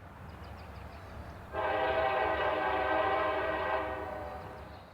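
Horn of a freight train led by two rebuilt SD40-3 locomotives and an ET44AC, returning to Barr Yard on the B&OCT, sounds one long sustained chord starting about a third of the way in, over a low rumble, then fades slightly.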